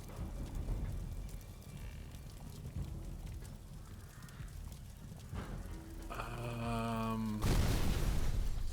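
A sudden loud explosion from the video game Sherlock Holmes: The Devil's Daughter bursts out near the end, cutting through a steady rain-like ambient wash and sustained musical tones.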